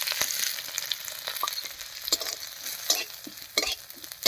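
Whole cumin and coriander seeds with green chillies frying in mustard oil, a close, continuous crackling sizzle broken by sharp spoon scrapes and taps as the spices are stirred.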